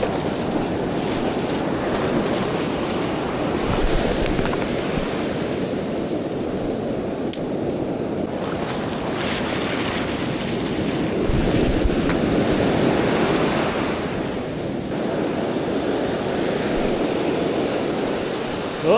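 Ocean surf rolls in steadily at high tide along a Monterey Bay beach, a continuous close wash of breaking waves with wind buffeting the microphone throughout and no voices.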